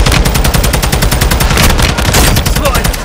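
Automatic gunfire from the video game Call of Duty Modern Warfare 2 rattles in rapid, loud bursts, with dense overlapping shots and a voice briefly heard under the barrage.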